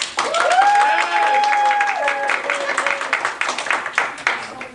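Convention crowd at a sci-fi fan event applauding and cheering as a vote by volume, a loud wave of clapping with whoops and raised voices that fades into scattered claps.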